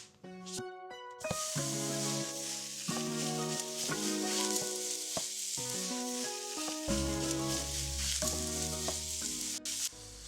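Ground beef sizzling on a stovetop, a steady hissing fry beneath prominent background music that carries throughout.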